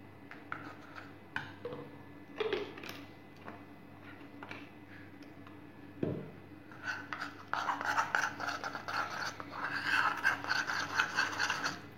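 A face pack paste thinned with rose water is stirred and mixed, giving soft, close scraping and rubbing that starts in scattered strokes and turns into a denser, continuous rasp toward the end.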